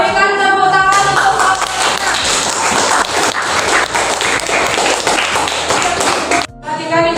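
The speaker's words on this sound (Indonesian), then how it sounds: "Berikan tepuk tangan untuk" A classroom of students claps hands together in a dense, loud burst of applause lasting several seconds, ending abruptly, with faint talk at the start.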